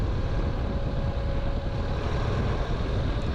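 A Honda DCT automatic motorcycle pulls away and climbs through second, third and fourth gear, its engine a steady loud drone with heavy wind rush over the microphone.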